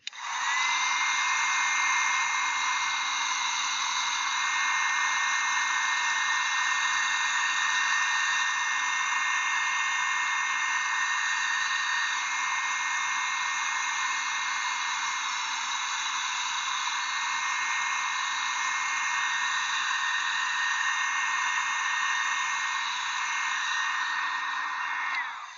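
A heat gun runs steadily at close range while shrinking heat shrink tubing over a marine wire butt connector, a loud continuous hot-air roar with a whiny tone that holds for about twenty-five seconds and has no talking over it.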